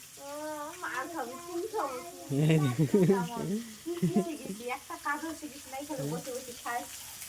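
Fish sizzles as it fries in a pan, a steady crackle sitting low beneath almost continuous conversation between several people.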